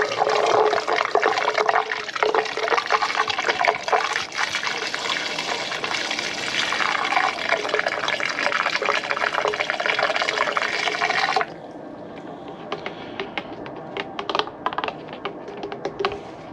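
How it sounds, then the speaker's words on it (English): Coolant is poured through a funnel into the cooling system of a Pontiac Solstice, Saturn Sky or Opel GT, a steady loud gurgling rush that stops suddenly and leaves faint drips and clicks. "using your funnel, we're going to fill this system all the way up"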